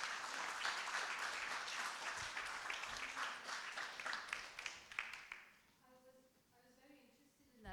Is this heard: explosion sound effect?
no